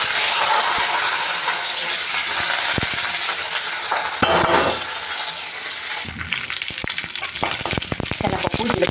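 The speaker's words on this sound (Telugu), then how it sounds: "కళాయిలో పోపు వేసుకుంటున్నాను." A tempering of chana dal, cumin, urad dal, dried red chilli, mustard seeds and curry leaves fries in hot oil in a kadai, giving a loud steady sizzle with sharp crackles and pops that grow busier toward the end.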